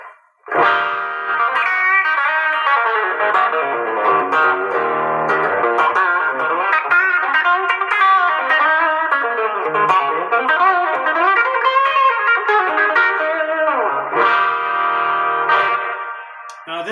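A DM4 digital overdrive pedal drives an electric guitar through roughly seventeen seconds of loud, continuous distorted playing, with ringing chords and bending lines that carry a slightly bell-like shimmer and no voices.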